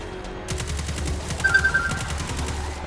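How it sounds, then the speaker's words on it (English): Rapid bursts of submachine gun fire in the video game Destiny 2 on PS4, a fast loud rattling volley sustained for about two seconds with sharp repeated shots. "submachine gun has so much recoil to it"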